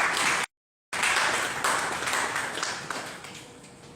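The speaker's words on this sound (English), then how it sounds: "Give me a hand of applause, please." Audience applause at a policy dialogue panel, a steady broadband wash of clapping that runs through the clip apart from a brief cut-out near the start, then gradually thins.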